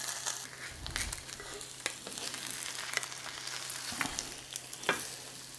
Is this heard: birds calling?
no